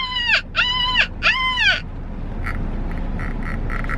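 A child imitates a seagull with three rising, squawking calls in quick succession, followed by quieter background noise and faint tapping.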